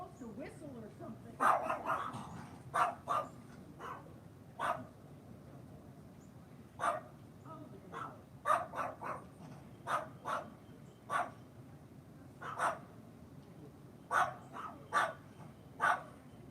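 Dogs at a house door bark repeatedly at people chatting, a long run of sharp, irregular barks, some in quick doubles, moderately distant with low room noise underneath.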